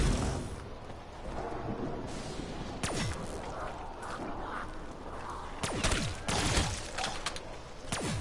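Gunfire in Call of Duty Zombies on the Nacht der Untoten map, several sharp shots standing out above a constant dense game soundscape, with a cluster of quick shots near the end.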